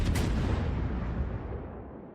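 German naval guns on the Graf Spee in World of Warships let off one heavy, booming salvo, followed by a long rumbling roll that fades away.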